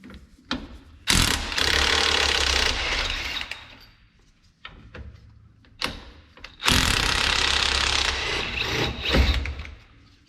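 A socket ratchet clicks in two long bursts, working a 15 mm bolt loose at the bottom of the strut on a Suburban/Tahoe/Yukon front suspension; the rapid metallic pawl clatter is close and loud with a short quiet pause between, and no one speaks.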